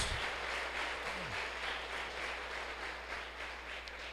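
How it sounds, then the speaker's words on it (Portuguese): A church congregation applauds during a Portuguese-language sermon, a soft, steady wash of many hands clapping at a distance over a low hum. "Quantos crê tão somente glorifique e aplauda o Senhor Jesus."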